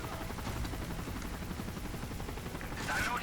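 Helicopter in the video game Spec Ops, a steady loud rotor drone running throughout with a brief burst of noise near the end, under players talking.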